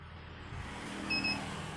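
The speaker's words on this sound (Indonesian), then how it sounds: "Nah, tuh alarm barusan bunyi bip bip 2 kali," A motorcycle's anti-theft touch-sensor alarm gives two faint, short electronic beeps close together over a low background hum.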